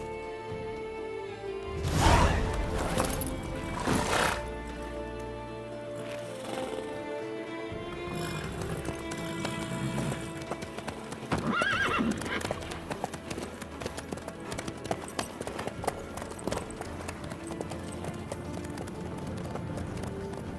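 A horse gallops in the video game Witcher 3, with rhythmic hoof clip-clops running through a steady game soundtrack and a couple of louder bursts early on.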